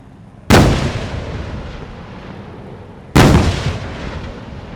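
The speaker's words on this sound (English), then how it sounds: "A tank troop takes position on the left and right to destroy enemy tanks and provide covering fire" Tank main guns firing during a live-fire military exercise, two loud booming shots a few seconds apart, each ringing out into a long rolling echo.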